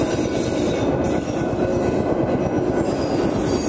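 From a Royal Enfield Bullet motorcycle, a passing train rumbles loudly and continuously, its wheels clattering rhythmically on the rails with faint squeals, close by and without talk.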